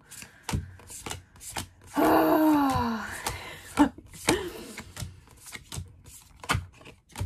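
A deck of tarot cards is shuffled by hand in a series of crisp riffling bursts and taps, with one longer ruffle in the middle and brief pauses between.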